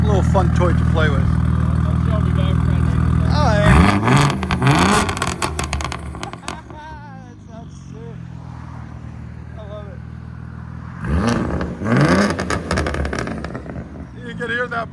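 A 2001 Audi S4 with a 2.7L V6 and a straight-pipe exhaust with no catalytic converters revs hard in two loud bursts, with a steady idle rumble between them and a voice talking over parts of it.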